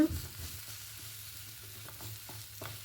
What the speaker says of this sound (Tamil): சேர்த்துட்டு நல்லா மிக்ஸ் பண்ணிவிட்டு